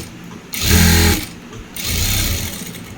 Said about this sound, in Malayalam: ഈ അടിഭാഗത്ത് കൂടെ ഇങ്ങനെയാണ് ക്രോസ് പീസ് മടക്കി തയ്ക്കുക